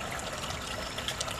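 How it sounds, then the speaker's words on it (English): A small garden water feature with big river rocks trickles steadily, a soft continuous splashing wash that runs evenly throughout without any talk over it. "I love this little water feature here."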